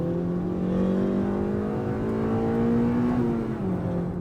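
A 1999 Honda Civic Si engine pulls hard under acceleration, its steady rising drone climbing in pitch, then dipping briefly near the end as a gear change comes, heard loud from inside the car.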